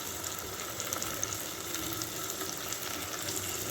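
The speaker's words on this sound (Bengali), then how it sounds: "তার জন্য আলুটাকে একটু ভেজে নিচ্ছি" Potatoes frying in a pan with turmeric, making a soft, continuous sizzle with faint crackles throughout.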